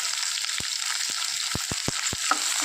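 Onions fry in a pan with salt and dried red chillies, a continuous close sizzle punctuated by several sharp spatula clicks and taps against the pan.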